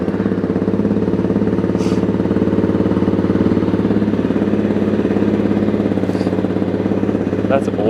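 Honda CRF250L motorcycle idling through an FMF Powercore 4 exhaust without the quiet insert, a close, steady, even low thump that stays constant throughout.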